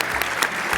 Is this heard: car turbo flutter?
no